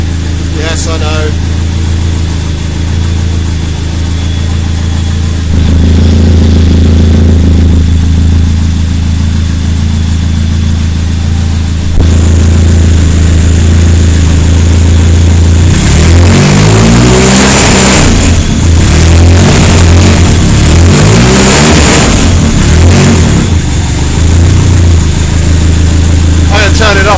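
A rear-wheel-drive turbocharged Nissan Micra engine runs loud and close on its first start, a steady deep drone that rises into rougher revving bursts midway, with voices talking over it.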